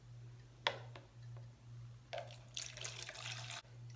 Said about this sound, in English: To pour the liquid into my paint trim cup that has the little spout side.